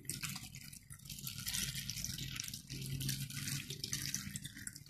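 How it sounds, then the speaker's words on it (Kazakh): Cold water poured from a tap over cut watermelon rinds in a pot, a steady close splashing and trickling stream that runs continuously with slight shifts in tone. "Енді осы қарбыздың үстіне салқын су құямын."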